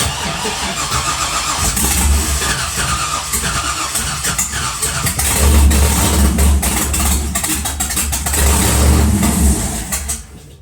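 A truck engine with a swapped camshaft cranks and fires, then revs roughly in uneven loud surges and settles between blips of throttle, close up and continuous throughout.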